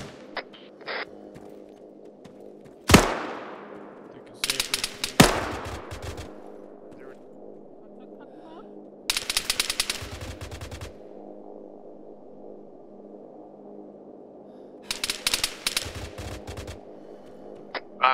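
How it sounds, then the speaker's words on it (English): Gunfire in the military game Arma 3 during an attack on a mosque rooftop: several bursts of rapid automatic fire and a couple of single sharp shots with echoing tails, spread across a steady background hum. "I'm firing at them right now."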